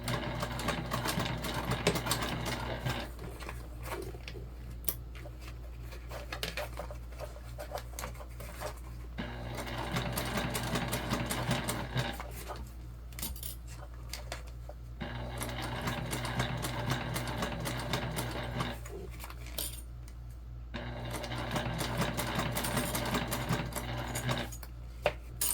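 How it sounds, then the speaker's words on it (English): A sewing machine stitches a quarter-inch seam around a Mini Magda bag, running in several long steady bursts separated by short pauses as the fabric is turned at bulky seams. "we're sewing this at a 1/4 inch seam allowance all the way around"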